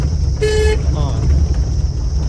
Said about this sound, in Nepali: दिदी आयो हर्न बजाऊ